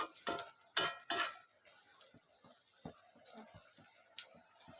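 A spoon stirs chochchori curry with potato and taro in a pan: a few loud scraping strokes at first, then lighter scattered clinks and scrapes, quiet and close with no speech.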